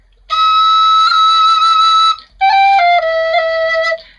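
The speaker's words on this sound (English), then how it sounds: "you can just momentarily lift a finger off very quickly, which gives not exactly a different note, but a kind of break in the note" A penny whistle holds two long, loud, clear notes in turn, the second broken by several quick finger lifts that give brief flickering dips in the tone.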